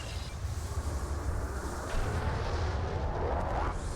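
Explosion of the destroyed Scimitar ship in the video game Star Trek Online: a loud, sustained rumbling blast that swells and roars for several seconds over a dense, noisy low end.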